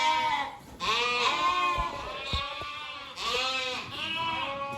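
Sheep bleat repeatedly on a farm, drawn-out wavering calls coming close and loud in several overlapping bursts with short pauses between them, and no talking.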